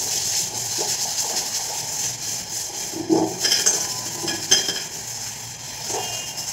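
Scrubbing a soaped, damp kadai with a scrubber, giving close, rhythmic metallic rasping strokes with occasional clinks of the pan, and no talking.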